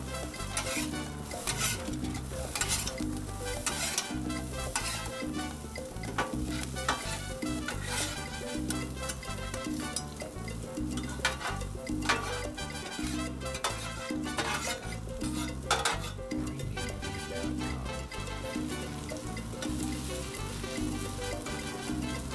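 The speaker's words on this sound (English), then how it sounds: "So let them mix up, stir them up." Chicken fried rice stir-frying on a Blackstone 22-inch griddle, a dense, steady sizzle with constant scraping and clattering of metal spatulas, close and busy throughout with no voices.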